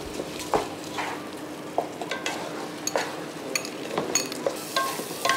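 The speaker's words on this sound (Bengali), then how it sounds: "অ্যান্ড দেন এখন এটাকে আমি ভালো মতো নাড়াচাড়া করে নেব।" Soaked rice with prawns and vegetables being stirred in a pan: a continuous close sizzle with repeated scraping strokes and light metallic clinks of a utensil against the pan, no talk.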